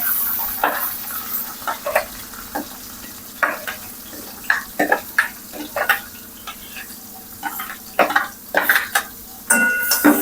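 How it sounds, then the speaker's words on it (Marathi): Chopped onion with a little cumin frying in a pan, stirred with irregular clattering strokes over a soft sizzle, close and moderately loud with no one talking. "कांदा थोडासा लालसर भाजू द्यायचा"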